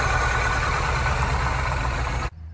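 A faulty Mini car engine runs roughly with a steady, loud mechanical drone, continuous and close, before cutting off abruptly near the end.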